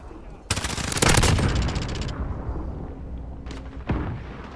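Rapid machine gun fire from a P90 in a Shoot House match of a first-person shooter, a loud dense burst of shots near the start that fades into rumble, with a couple of sharp later shots and faint voices.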